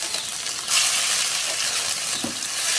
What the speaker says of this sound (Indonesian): Setelah ini kita akan masukkan bumbu yang sudah tadi kita haluskan.